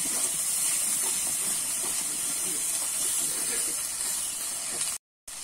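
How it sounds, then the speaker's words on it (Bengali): Ginger and garlic paste fries in a pan, giving a steady, even sizzling hiss that runs continuously before cutting out briefly near the end. "আমি কিন্তু এখানে রসুন আর আদাটা একটু কষিয়ে নিয়েছি।"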